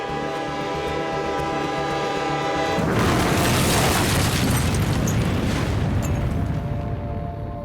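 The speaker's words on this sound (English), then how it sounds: "there was a massive train explosion in northern North Korea" Huge train explosion in a remote northern North Korean town: a steady horn-like drone suddenly gives way to a massive, sustained roaring blast that stays loud and dense for several seconds.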